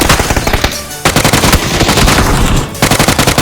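Loud, close automatic gunfire in the battle royale game PUBG (Battlegrounds), fired in rapid volleys: one short burst, a brief gap, then a long sustained stream and a final burst.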